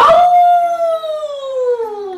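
A single long, loud howl that slowly falls in pitch and fades, presented as a dingo at the edge of a sandy desert on a moonlit night, heard alone.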